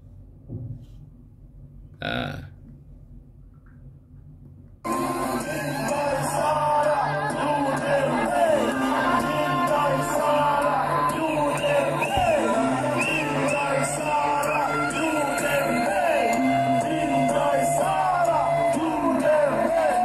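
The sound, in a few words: rally crowd shouting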